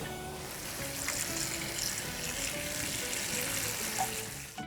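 Water runs steadily from a tap into a bowl of cut skin-on pork bones being rinsed in a kitchen, a soft continuous wash heard at low level with no talk.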